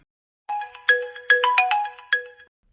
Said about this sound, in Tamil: இப்போ யாரு ஃபோன் பண்றா